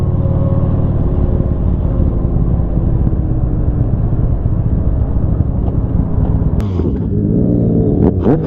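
A 2017 Yamaha Bolt R-Spec motorcycle with a poorly working muffler rides through Queens, New York, its engine giving a steady, loud, rumbling drone with a brief change in pitch near the end.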